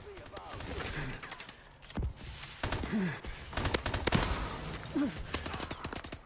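Mp443 Grach pistol gunfire in Call of Duty Advanced Warfare, repeated sharp shots in quick bursts and single cracks, close and loud, mixed with other battle sounds and a voice in the background.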